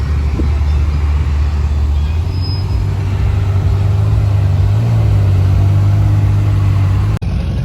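A Porsche Carrera GT and a Ferrari 812 idle and rev at a busy car show, a loud, steady low engine rumble that swells slightly partway through before cutting off abruptly near the end.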